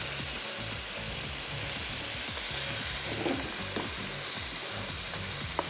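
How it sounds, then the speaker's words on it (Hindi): Chicken keema with onions frying on high heat, a steady loud sizzle with the rhythmic scrape and clatter of a spoon stirring through the pan. "तेज़ आंच रखनी, आंच धीमी नहीं रखनी, और फ्राई करते जाएंगे"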